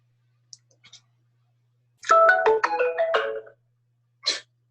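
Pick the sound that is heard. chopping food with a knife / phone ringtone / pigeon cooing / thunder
phone ringtone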